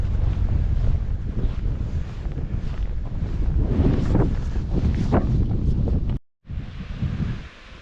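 Water rushes over French Lake Dam in Oklahoma's Wichita Mountains after heavy rain, a loud continuous roar muddied by gusting wind on the microphone, cutting out briefly before resuming.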